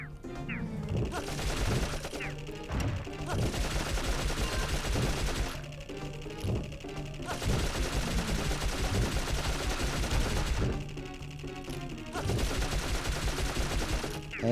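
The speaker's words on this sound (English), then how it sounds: "Love a good machine gun." Repeated bursts of machine-gun fire in the video game Dark Cloud, several sustained volleys separated by brief pauses, loud and close over a steady game soundtrack.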